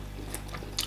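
Crunchy bites and chewing of assorted meat served with starch fufu and banga soup, close to the mic, a few short crisp crunches over a quiet background.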